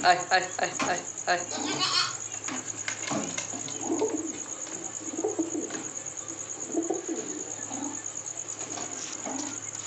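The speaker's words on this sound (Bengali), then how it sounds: "পয়রাটা ডাকছে এবার দেখো।" A pet pigeon gives repeated low throaty coos in irregular bursts, close and fairly loud. A faint steady insect-like hum runs underneath, and there is some light rustling.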